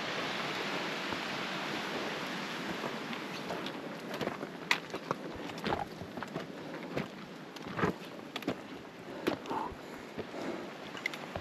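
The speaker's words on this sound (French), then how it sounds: "Là, on est à côté d'une très belle cascade." A mountain waterfall near Lac Gentau rushes as a continuous broadband roar, with scattered sharper splashes and no one talking.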